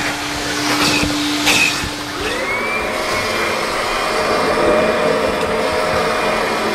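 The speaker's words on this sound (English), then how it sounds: "The vacuuming is done." A vacuum cleaner cleans the inside of a car at a car wash. It drones loudly and steadily throughout, and its whine rises in pitch partway through.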